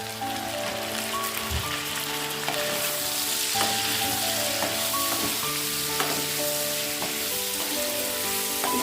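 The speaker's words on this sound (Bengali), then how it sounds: "বেগুনটা দিয়ে একটু ভেজে নেব" Eggplant pieces fry in a hot pan for a prawn and spinach curry, a steady loud crackling sizzle that runs throughout with light stirring scrapes and no talking.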